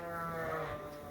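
A single sheep bleats on a farm, a wavering voiced call that lasts about a second at moderate loudness with no one talking.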